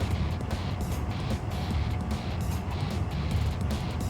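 A pickup truck racing at full speed through darkness, heard as a steady, loud, rumbling engine and road roar that holds constant throughout without pause.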